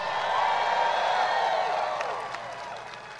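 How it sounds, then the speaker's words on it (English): A large rally crowd applauds and cheers for congressional candidates, producing a dense, continuous wash of clapping with scattered whoops that slowly fades near the end. "Give them all a big round of applause."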